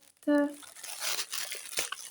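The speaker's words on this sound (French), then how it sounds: "Et donc, je casse la petite pochette." A short tonal squeak is followed by crinkly tearing of a small plastic pouch, close up, with soft rustling continuing afterward.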